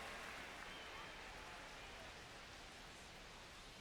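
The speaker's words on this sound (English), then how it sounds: "the field's not going to be able to hold up if the rain gets any worse than this" Steady rain falling on a baseball field in MLB The Show 25, a soft continuous hiss of drops with no breaks, faint and even from start to finish.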